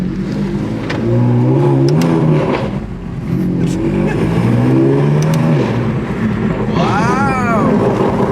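BMW M4 GTS accelerating through the gears, its engine note climbing in loud revving sweeps heard from inside the car, with a short exhaust burble near the end and people talking over it.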